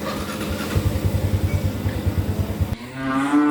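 Cattle in a flooded cow pen mooing repeatedly in a low, steady series of calls, close by, with a brief engine-like rumble toward the end.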